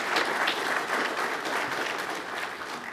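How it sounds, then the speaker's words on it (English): An audience at a farm bureau political forum gives a candidate a steady round of applause, a continuous wash of many hands clapping at a moderate distance with no talking over it. "Let's give him a round of applause."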